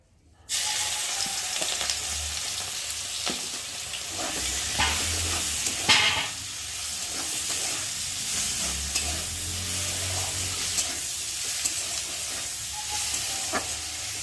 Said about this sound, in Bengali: এখন কড়াতে তেল দিয়েছি, আর এখন এই যে নুন হলুদ মাখিয়ে রাখা চিংড়ি মাছগুলোকে দিয়ে ভালো করে ভেজে নেব।